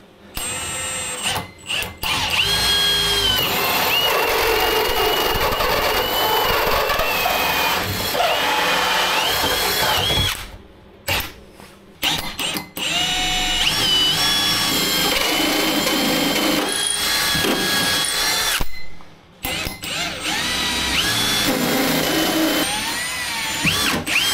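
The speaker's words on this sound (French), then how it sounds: "maintenant qu'on a percé tous nos trous de prise et interrupteur" Power drill boring holes for sockets and switches during an electrical install in a camper truck, loud sustained whirring runs broken by short pauses and clatter, close up.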